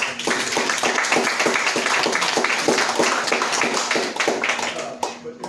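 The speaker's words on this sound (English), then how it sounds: "let's give him a round of applause" An audience at a historical society program claps in a round of applause, a dense patter of many hands, close and steady, fading out near the end with a voice talking.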